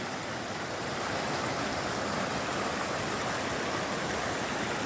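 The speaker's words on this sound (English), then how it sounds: "It's a beautiful little stream. Nice, fast flowing." A fast-flowing little stream on an Appalachian Trail thru-hike, a steady, dense rushing of water heard up close, continuous and even with no voices.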